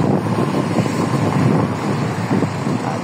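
Steady, hot, humid wind gusts buffet and roar close by near Souq Waqif, with a low rumble underneath and no voices.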